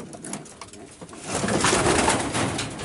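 Racing pigeon cock of Van Dijk bloodline coos softly in a loft, a low repeated murmur over a busy noisy background that grows louder midway.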